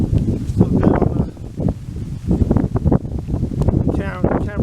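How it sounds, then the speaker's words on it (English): Wind buffeting a camera microphone outdoors at the Colosseum, a loud, continuous low rumble with gusting surges filling the whole stretch, close and rough. "the camera getting kind of windy"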